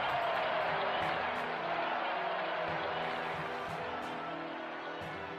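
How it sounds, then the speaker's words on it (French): Video game crowd in Evoland II applauding the emperor, a broad wash of clapping and cheering that stays steady and gradually fades slightly, with occasional sharper claps standing out. "Mesdames et messieurs, merci de bien vouloir applaudir Sa Majesté l'Empereur Lothair."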